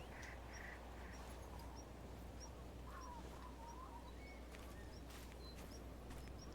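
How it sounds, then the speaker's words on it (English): Birds call in the game Call of the Wild: The Hunter during a snowstorm, with faint, sparse chirps and a few quacking calls over a steady low wind rumble. "very strange that I'm hearing so much bird ambience in the middle of a snowstorm"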